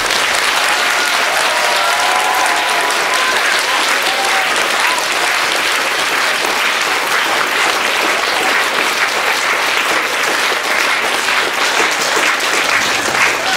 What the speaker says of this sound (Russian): Давайте мы похлопаем вот сейчас всем, кто до этого был на сцене, громко-громко.